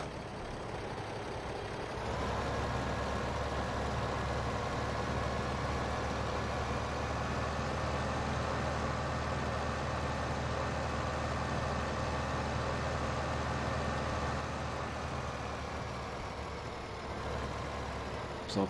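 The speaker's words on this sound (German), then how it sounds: "Und dann setzen wir die Sämaschine schon mal gleich in Gang." Tractor engine running with a seed drill engaged in Farming Simulator 2015, a steady loud droning rumble that holds constant for many seconds with a slight rise near the start.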